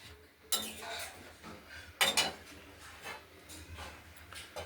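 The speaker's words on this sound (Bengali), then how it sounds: "ঢাকা দিয়ে দিলাম" A lid set onto a pot of katla fish curry with potato and vegetable stems, two loud close metallic clanks a moment apart amid lighter clinks and kitchen clatter, no voices.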